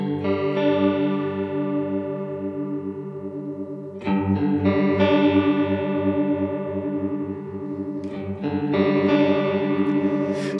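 Guitar run through a chorus effect at a rate setting of three, its sustained chords wobbling audibly in pitch, with a fresh strum near the four-second mark and another around eight seconds, loud and alone without any voices.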